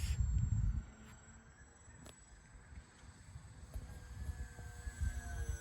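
A small model airplane motor whines faintly in the distance, with a thin high-pitched buzz that drifts and swells as it flies.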